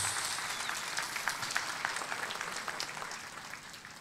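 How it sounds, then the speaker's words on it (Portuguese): Warm applause from a church congregation during a Mass for Padre Cícero, a steady wash of many hands clapping at moderate level, faint and somewhat distant throughout. "uma calorosa salva de palmas"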